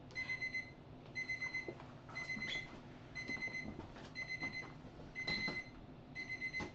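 A small electronic kitchen timer beeps in repeated rapid bursts, evenly spaced about one per second, moderately quiet with faint room noise and handling between the beeps during a live yarn-dyeing session.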